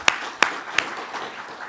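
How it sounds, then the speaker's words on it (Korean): An audience at a church lecture claps three times in sharp, evenly spaced bursts, followed by quieter scattered applause. "우리 호남에 있는 기독교인분들 열심히 싸워주신 것에 대해서 우리 한번 큰 박수 한번"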